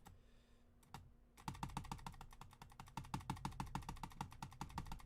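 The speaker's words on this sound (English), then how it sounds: "Aggressive mouse clicking." Rapid, aggressive clicking at a computer during online gameplay: a steady barrage of sharp, close clicks after a brief pause, continuous and loud with no talking.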